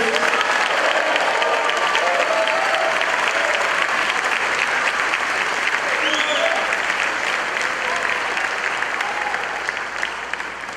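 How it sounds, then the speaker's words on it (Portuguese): A church congregation applauds in praise, dense sustained clapping filling the room for about ten seconds, with scattered voices and shouts rising through it. "dê um aplauso a Ele"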